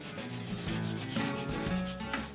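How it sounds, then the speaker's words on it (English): A small Japanese handsaw cuts off excess wood from a protruding piece during a door installation, a steady close rasping and rubbing stroke sound that runs continuously through the short clip with no talk. "I cut off the excess using a small Japanese handsaw."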